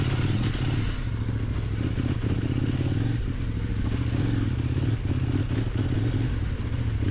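Kove 800X Pro adventure motorcycle engine under throttle, a loud steady drone with a throbbing low rumble that holds continuously throughout, heard close with wind and road noise mixed in.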